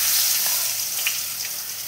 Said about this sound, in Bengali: এখন আমি দিয়ে দিচ্ছি মাছের পেটি কড়াইয়ে ভাজার জন্য।